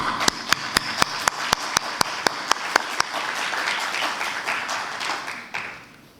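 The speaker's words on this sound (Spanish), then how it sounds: "aplauso." Applause greets a speaker at an economics congress: a few sharp, evenly spaced claps up front swell into a full crowd ovation that carries for several seconds before fading away.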